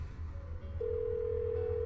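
A telephone in Persona 4 Golden rings on with no answer: a steady, sustained electronic tone holds over a low background hum, continuing unbroken to the end.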